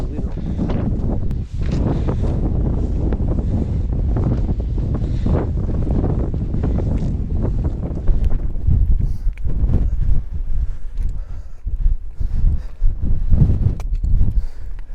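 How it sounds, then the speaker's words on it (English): Strong wind on an open hill as a storm approaches, roaring and buffeting the microphone in loud, sustained gusts that swell and ease across the whole stretch. "you can probably tell the wind is picking up"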